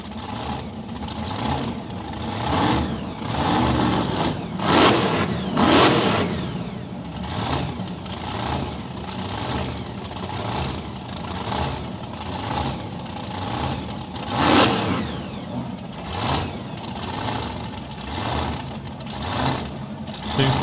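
Supercharged radial drag racing car at Willowbank, Australia, revving hard in repeated loud, rough bursts over a lumpy idle, with engine noise steady throughout.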